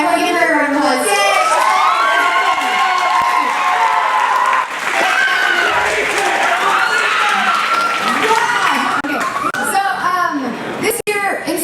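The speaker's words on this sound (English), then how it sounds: "Everyone give her a round of applause." A crowd of schoolchildren at a school talent show shouts, cheers and claps in a loud, sustained burst that fills the whole stretch, with excited young voices rising over the applause.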